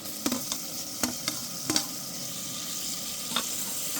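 Chopped tomatoes go into onions frying in oil over a camping fire, giving a steady sizzle with a few sharp clinks and scrapes of a spoon stirring the pan.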